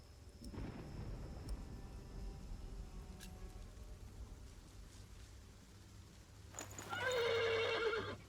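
A horse whinnies loudly near the end, preceded by low rumbling and faint hoof shuffles in a quiet outdoor scene.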